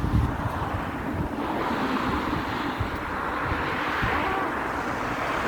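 Steady wind rushes past with a broad, continuous roar, like sea surf blending with gusts buffeting the microphone.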